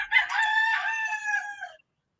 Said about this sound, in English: Why am I hearing a chicken but I cannot hear your voice?